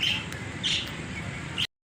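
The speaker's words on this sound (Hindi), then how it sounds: "ये माशाल्लाह तोते हैं" Parrots of a large breed kept among pigeons and chickens give a few faint, short chirps and squawks over a quiet, hissy background.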